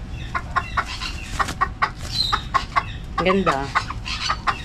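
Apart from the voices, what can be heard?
pet chickens clucking, rooster and hen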